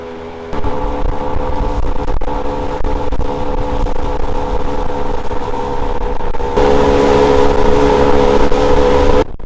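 A salmon fishing boat's engine on Drano Lake throttles up, a loud steady drone that kicks in sharply, holds, then swells higher as it accelerates toward shore.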